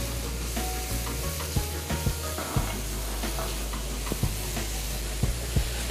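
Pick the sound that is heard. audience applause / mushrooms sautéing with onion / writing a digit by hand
mushrooms sautéing with onion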